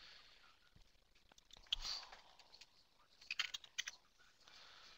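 Quick bursts of typing on a computer keyboard, faint clicking keystrokes in short clusters, close but quiet, with light breathing in the background.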